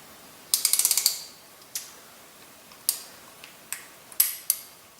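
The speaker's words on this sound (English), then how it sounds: "got the ratchet on here, and we're just going to go, like I said, roughly a third to half turn" Ratchet tightening a spark plug on a 2002 Mazda Miata: a quick burst of rapid clicks, then several separate single clicks and short ratcheting bursts, close and crisp against a quiet background.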